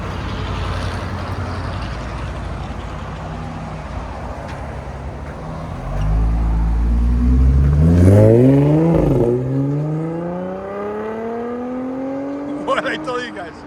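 A 2013-2016 Audi S5 with a 3.0L supercharged V6 and aftermarket cat-back exhaust pulls away hard, its engine note rising loudly through the gears with sweeping pitch, then fading into the distance.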